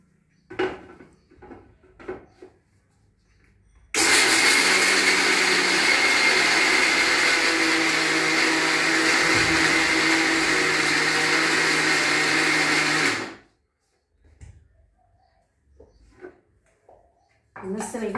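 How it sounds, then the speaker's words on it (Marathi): A mixer grinder runs at full loud roar for about nine seconds, grinding flaxseed, garlic cloves and salt into chutney, with someone talking briefly before and after and clinks of the jar. "आता हे मी मिक्सर मधून काढते।"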